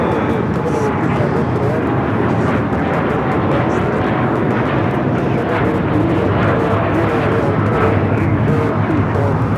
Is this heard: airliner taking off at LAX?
yes